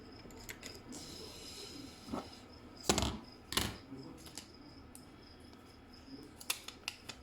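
A few sharp snipping clicks spaced apart, with a louder pair of crisp cuts in the middle, against a quiet room background.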